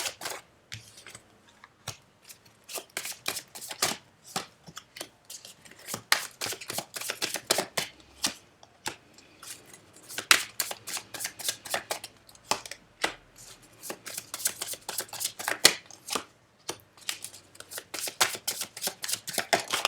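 A deck of cards being shuffled for a card reading, a dense, steady run of riffling flicks and snaps that keeps going with brief gaps, fairly close and soft, with no talking.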